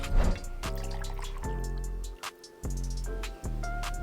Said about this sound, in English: Next, I'm gonna add 2 ounces of vodka.